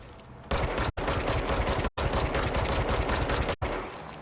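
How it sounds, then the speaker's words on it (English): Sustained automatic gunfire from the video game Control, loud and continuous in long bursts broken by brief cuts, with no talk. "I'm shooting at it."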